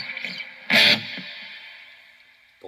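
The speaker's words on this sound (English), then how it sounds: "it's a whole lot of fun to play with the fuzz way up and just get aggressive fuzz tones" A Top Hat Fuzz pedal pushed to an aggressive fuzz tone on electric guitar: a sharp distorted strike that rings and slowly fades, with a few quieter picked notes around it.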